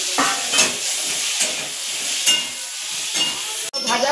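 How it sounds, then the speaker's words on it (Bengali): Cut potatoes fry in a pan, giving a loud, continuous sizzle with bursts of spattering and occasional stirring scrapes, heard close up and without talking. "কেটে রাখা আলুগুলো ভেজে নিচ্ছি।"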